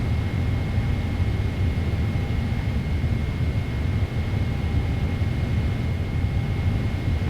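An Emirates Boeing 777-300ER taxiing in Microsoft Flight Simulator 2024 gives a steady, droning jet engine rumble with a faint high whine, unbroken and with no talk.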